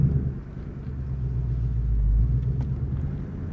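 A 2020 Ford Mustang GT Premium convertible pulls away, its engine a low, steady rumble that swells slightly as the car gets moving, heard from inside with no talk.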